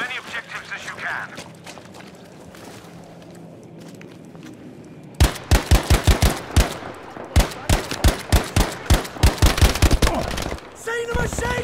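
Machine gun fire in Battlefield 5 multiplayer, heard first as distant popping under ambient battle noise, then as a loud close burst of rapid, evenly spaced shots lasting several seconds, with a brief pause mid-burst.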